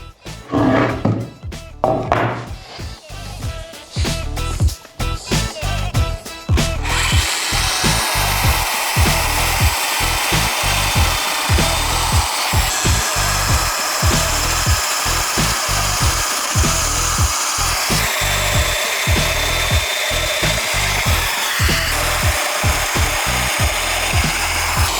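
A Festool Domino joiner cutting mortises in solid wood for 10×50 dominos during table building, a steady close whining motor with rapid rhythmic plunging cuts, preceded by a few seconds of sharper intermittent bursts.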